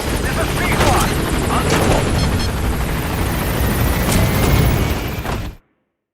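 Helicopter Pequod arriving in Metal Gear Solid V: The Phantom Pain, a steady, loud rotor-and-engine roar filling the scene with game combat noise layered in, cutting off abruptly near the end.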